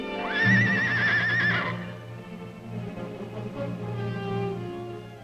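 A wild mustang stallion lets out a loud, shrill whinny that rises and quavers, followed by lower snorts and nickers nearby.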